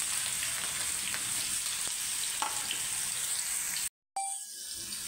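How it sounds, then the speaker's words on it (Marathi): Onion roasting in a pan gives a steady, close hiss of sizzling oil with faint crackles, broken by a brief silent cut near the end before the frying resumes more quietly. "सगळ्यात आधी कांदा घ्यायचा भाजून"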